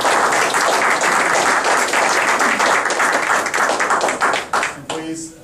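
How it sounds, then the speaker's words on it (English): A large, dense round of applause from the audience at a Toastmasters open house, steady and loud, thinning out near the end as a voice starts to come through. "please give a big round of applause to Linda, to Harry, and to Bobby"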